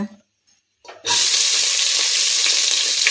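Onions land in hot oil for chicken biryani and break into a loud, sudden sizzle after about a second of near silence, then hiss steadily and continuously up close.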